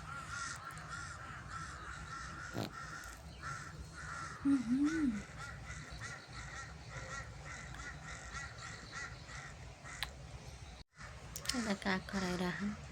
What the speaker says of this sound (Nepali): यता काग खराइराख।